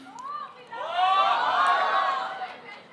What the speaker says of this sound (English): is this positive or negative, this cheer?